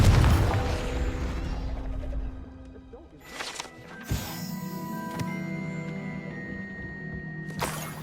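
A Confringo explosive spell goes off in Hogwarts Legacy, a deep booming burst at the start fading into a rumble, followed by ringing magical tones and a second bright flash of sound near the end.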